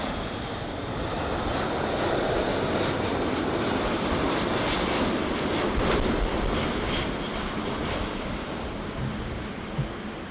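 An Aer Lingus heavy jet airliner arrives at LAX, its engines a loud, steady, broadband roar that fills the whole stretch with no break.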